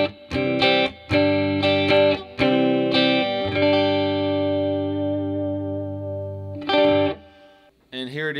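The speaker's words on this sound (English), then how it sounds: "So it has a nice spring reverb in the back." Electric guitar chords played through a Peavey Bandit 112 amp with its spring reverb set around 9 o'clock, several strummed chords ringing out with a reverberant tail, then a final chord and brief pick noise.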